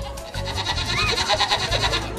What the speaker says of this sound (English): Goats, there's approximately 200 different breeds of domestic goats.